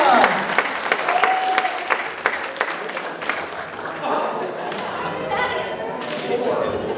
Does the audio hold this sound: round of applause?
yes